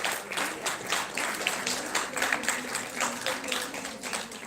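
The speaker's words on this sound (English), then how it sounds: "A big round of applause for Miss Sangeeta" A fairly small audience at a health conclave claps quietly and steadily, individual hand claps distinct in an uneven, moderately paced patter with a murmur of voices beneath.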